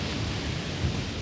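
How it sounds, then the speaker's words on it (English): Thunderstorm in the Vestmann Islands of Iceland, with steady rain hiss and a deep continuous rumble of thunder swelling slightly near the end, loud and broadband with no voices. "You like the storm?"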